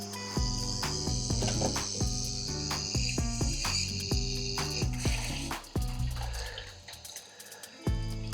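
Toilet cistern refilling with a condom sleeve fitted, giving off a steady, annoying buzzing hum in stuttering tonal pulses over running water, close and alone.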